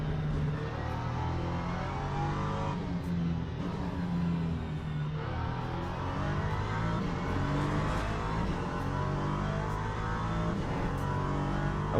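Race car engine in the Le Mans Ultimate racing game, a steady loud drone with shifting pitch as the car accelerates and holds speed, continuous throughout with no talk.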